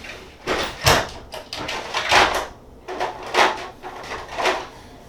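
Plastic Sortainer drawers sliding open and shut several times in a row, each pass a short scraping rattle ending in a light knock, close and fairly loud with brief pauses between.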